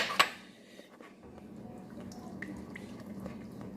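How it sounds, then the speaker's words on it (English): Water and lemon juice are added to apples for an apple crisp, giving a faint, close liquid splash and a few soft drips over quiet kitchen background. "I'm gonna add 3 tablespoons of water and a tablespoon of lemon juice."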